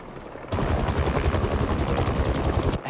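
Helicopter blade sound effect in Spider-Man 2, starting abruptly after a half-second of quiet and pulsing as a fast, loud, chopping rhythm before cutting off.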